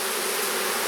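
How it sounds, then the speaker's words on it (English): A honeybee hive roars with a steady, dense buzzing as the bees fan, loud and close with no pauses. "Usually a roaring hive is not a good thing."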